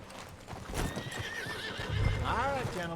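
A horse in the Red Dead Redemption 2 western game whinnies with a rising, wavering neigh near the end, over hoof clip-clop and a voice talking through the middle.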